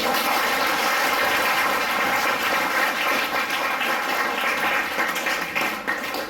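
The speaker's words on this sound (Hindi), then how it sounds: "तो इनके लिए ताली तो बजाओ कम से कम" Students in a college workshop classroom clap together, a dense, steady wash of applause that holds evenly and then tapers slightly near the end, with no talk over it.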